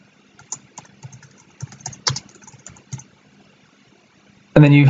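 Someone types a short folder title on a computer keyboard: a run of light, irregular key clicks at close range, a few louder strokes among them, ending in a brief burst of noise.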